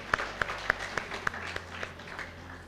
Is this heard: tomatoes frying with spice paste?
no